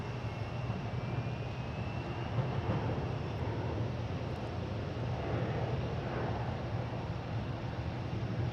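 A United airliner bound for Norfolk sits lined up on runway 4 right at Boston Logan, its engines giving a steady, even broadband roar with a low hum, distant and unchanging throughout, no voices.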